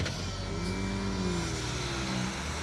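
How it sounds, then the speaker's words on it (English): A rally car on an asphalt stage of the Tour of Epynt, its engine ailing, runs with a loud, steady, coarse drone and a slowly wavering pitch, with no speech over it. "The engine doesn't sound very well at all"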